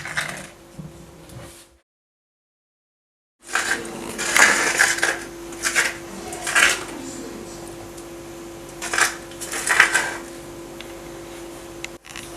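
Spices are scooped and stirred into sliced plantain in a bowl for Ghanaian kelewele, heard as intermittent scraping and clinking of a utensil against the bowl with a short silent gap early on.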